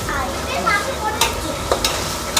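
Ginger garlic paste frying in hot oil in a pan for a vegetable biryani, a steady sizzle with a few sharp scraping stirs of a spoon against the pan.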